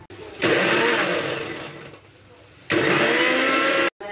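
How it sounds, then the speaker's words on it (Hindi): A kitchen mixer grinder blending a banana shake runs loudly in two bursts separated by a quieter stretch, with a brief cutoff near the end. "मैं मिक्सी चला रहा हूँ"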